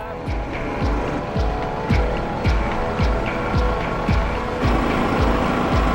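A Grumman Hellcat's radial aircraft engine runs on the ground after being started, loud and close, with a steady rhythmic chugging pulse of regular firing beats throughout and a slight change in tone near the end.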